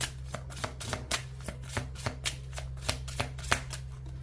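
Tarot cards are shuffled by hand, a close series of crisp papery slaps and riffles in quick irregular rhythm over a low steady hum, with no talking.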